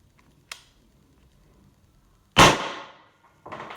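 Shots from a First Strike FSC paintball marker fitted with a Grimburg Julv2 barrel: a sharp faint pop, then a loud crack with a fading tail, then another firm pop, each separated by silence.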